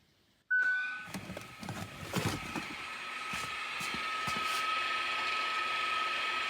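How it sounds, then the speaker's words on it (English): Rear electric parking brake motors on a 2022 Hyundai Tucson retract with a sudden start, a few clicks, then a steady high whirring whine running on close by. "you'll hear the parking brake motors winding back"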